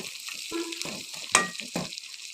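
Fish sizzling in hot oil in a pan for chingri vuna, a Bengali prawn dish, with a bright crackling hiss and a few sharp clinks and stirring knocks, close up and without talk.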